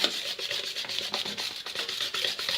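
Powdered sugar is stirred into banana cake batter with a brisk, scraping rhythm, each stroke rubbing and rasping close up against the bowl, with no voices.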